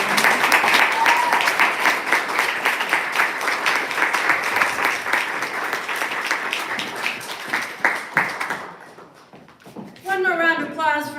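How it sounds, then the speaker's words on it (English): Audience applause after a poetry reading fills the room loudly with dense, sustained clapping for about eight seconds, then fades as a voice begins speaking near the end. "One more round of applause for Teresa Dzieglewicz."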